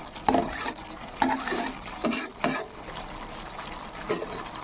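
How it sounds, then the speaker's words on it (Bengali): Yogurt egg curry gravy bubbling in a pan, a close, continuous wet simmer with soft irregular pops and splutters, no voices. "গ্রেভিটা আমার ফুটে উঠেছে।"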